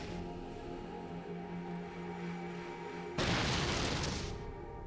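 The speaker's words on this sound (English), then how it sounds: "And I hear explosions going off, but I don't know from where." Explosions go off in the Fallout 2 video game, a sudden loud, broad boom rising out of a steady droning background and lingering for over a second.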